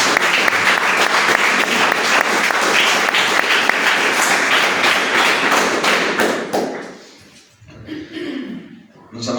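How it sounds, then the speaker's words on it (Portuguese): Church congregation clapping in praise during a service: loud, sustained applause from a crowd with thumps, tapering off after about seven seconds, then brief murmuring voices and a renewed burst. "Que as palmas louve e glorifique o nome do nosso Deus."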